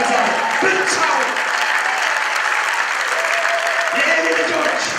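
Loud, sustained applause from a church congregation during a sermon, dense clapping filling the room with brief voices and a held tone rising through it.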